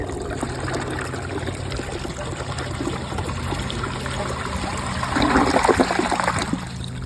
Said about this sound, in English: and we'll give this toilet a flush.